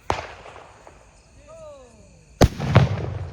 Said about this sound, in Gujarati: આ હુતળી બોમ્બ ઓરિજિનલ આવી છે